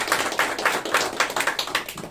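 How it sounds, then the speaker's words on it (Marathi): An audience claps for a farmer at a gathering, with rhythmic, fairly close applause of repeated sharp hand claps that pulse steadily for a couple of seconds. "त्यांच्यासाठी टाळ्या वाजूया."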